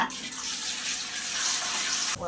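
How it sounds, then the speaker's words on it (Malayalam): Water pours steadily into a pot for boiling palm shoots in a home kitchen, a close, continuous splashing gush that stops abruptly at the end. "ഒരു വെള്ളം ഒഴിക്കുകയാണ്."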